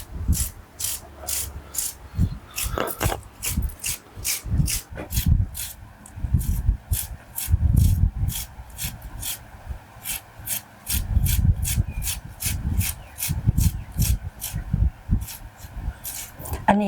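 Bamboo shoots being scraped for pickling, heard as rapid rhythmic rasping strokes against wood, dozens in steady succession, close up, with a voice talking between and over them.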